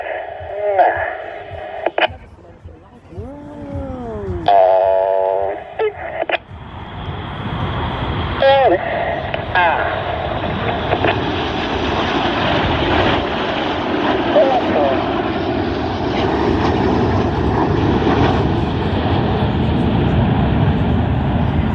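Red Arrows display jets flying in formation, trailing red, white and blue smoke, with a loud continuous broadband jet roar building and sustained after a commentator's voice over radio-like audio in the opening seconds.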